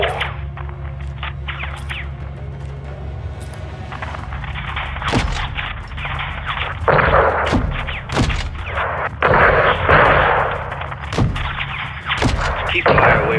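Gunfire and artillery hitting a convoy in Call of Duty: Modern Warfare II, repeated sharp booming shots and heavy blasts over a steady engine-like drone, loud and close.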